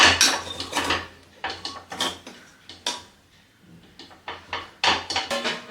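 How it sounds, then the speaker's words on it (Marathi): Spoon working modak rice flour dough in a metal vessel, giving rapid clattering scrapes and knocks in irregular bursts, close and fairly loud, with no talking. "पीठ एकदा आपण मिक्स करून घेऊया मिक्स करताना थोडंसं त्याला चमच्याच्या साह्याने मळून घ्यायचं आहे"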